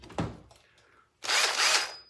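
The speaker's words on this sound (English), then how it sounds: "use my drill" A power drill runs in a steady, loud whir for about a second while bolting an 80 cc motor onto a 20-inch BMX bike, after some brief clanks of handling.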